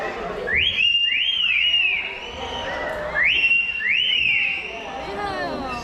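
A talking bird imitates a whistle with repeated bright, rising-and-falling whistled notes in two bursts, close and clear over light background chatter.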